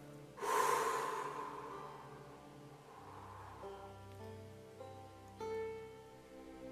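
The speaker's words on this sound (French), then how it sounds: "Respire profondément en inspirant tout l'air que tu peux et en le faisant ressortir aussitôt." A calm family meditation setting where a person breathes deeply in and out, one strong audible inhalation followed by softer exhalations, close and alone with no talk.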